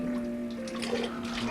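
Water drips and splashes into a sink, a brief burst of wet spattering over a faint steady hum, close and moderately loud.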